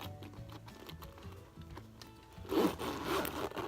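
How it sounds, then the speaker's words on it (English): A few short scratchy rubs, then a louder smooth zipper pull opening a Louis Vuitton Alma BB handbag near the end, close and quiet otherwise. "It's very smooth zipper."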